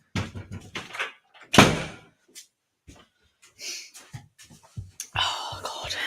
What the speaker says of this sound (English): Hang on, let me shut the door.